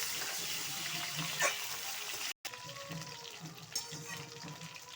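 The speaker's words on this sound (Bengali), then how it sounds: "এবার আমি ফোড়নের মধ্যে দিয়ে দিচ্ছি কেটে রাখা আলু আলুগুলো ভেজে নেব আমি একটু নাড়াচাড়া করে দিচ্ছি" Diced potatoes frying in oil tempered with whole spices for a tilapia and flat bean curry, with a steady soft sizzle and a few scraping stirs, moderately quiet and broken by a brief gap.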